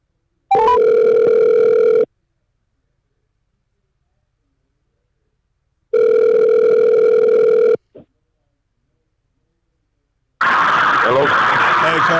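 Two steady telephone dial-tone bursts separated by silence, a brief click, then a line opening into noisy connection hiss as a caller comes through on a live call-in show.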